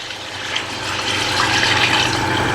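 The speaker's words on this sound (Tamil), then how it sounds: "நம்ம தண்ணி அளந்து வச்சுருக்கோம்ல அதை எடுத்து ஊற்றிடலாம்" Measured water pours steadily into a pot for chicken biryani at close range, a continuous splashing rush that grows slightly fuller toward the end.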